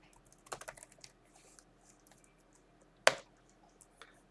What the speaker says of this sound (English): let's just type in CLS to clear the screen